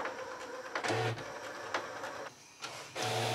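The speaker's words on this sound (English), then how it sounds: "Close the cover. And now printer will do its stuff." A Canon imagePROGRAF Pro-300 professional photo printer runs a print job, with a steady mechanical whir broken by repeated carriage sweeps and short low motor hums, close and fairly quiet, with no speech.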